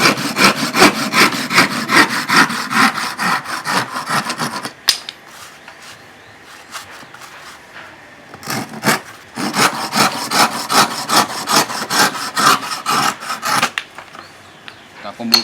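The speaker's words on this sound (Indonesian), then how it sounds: "gergaji potong." A hand crosscut saw rips through wood in quick, rhythmic rasping strokes, close and loud, pausing for a few seconds midway before the steady back-and-forth sawing resumes.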